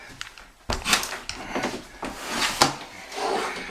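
Bifold closet doors in a house hallway are handled and come apart, producing a string of wooden knocks, thumps and rattles of varying loudness close by, with no talk.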